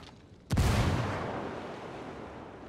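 A fragmentation grenade detonates in the tactical shooter Ghost Recon Wildlands: one sudden, loud boom that rolls out into a long, slowly fading rumble, heard alone after a short quiet stretch.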